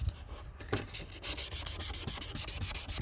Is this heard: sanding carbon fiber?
yes